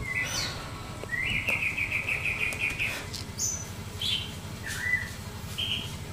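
Canaries chirp and trill in a breeding cage, with a rapid run of repeated notes and several short calls scattered over a low, steady background hum; fairly close, with no talking.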